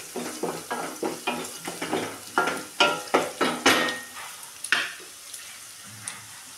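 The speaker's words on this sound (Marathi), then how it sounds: "ह्यालाच थोडंसं मी हळद घालून घेते आणि परत छान असं परतून घ्यायचं याला" Rice with turmeric sautés in a pan for lemon rice, a series of rhythmic scraping strokes of a spoon stirring it, each with a soft sizzle, close and clear with no voices.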